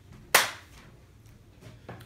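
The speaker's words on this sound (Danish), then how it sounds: "Jeg klapper lige, så man kan synkronisere lyden." A single sharp hand clap rings out loudly and close, followed by a short quiet stretch with a fainter tap near the end.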